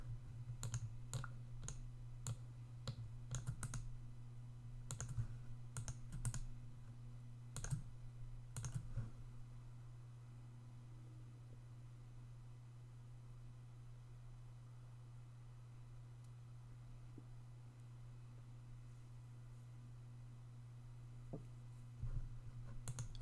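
Someone typing a prompt on a computer keyboard, quick bursts of sharp key clicks for several seconds, then mostly quiet room hum with a few final taps, close and soft.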